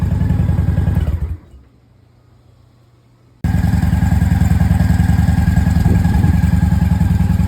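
A 2003 Honda Spirit 750 motorcycle engine after carburetor and fuel repairs, idling loud and close with a steady throb, cutting out to near silence for about two seconds, then firing back up and running evenly.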